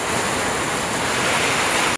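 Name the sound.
strong wind and heavy rain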